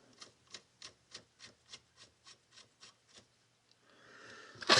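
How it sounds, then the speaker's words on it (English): A nut spun by hand onto the threaded stud of a new pitman arm during steering work on a 1966 Ford Mustang, giving about eleven evenly spaced, close, quiet ratcheting scrapes, then a louder rustle and a clunk. "we'll get the nut going on here"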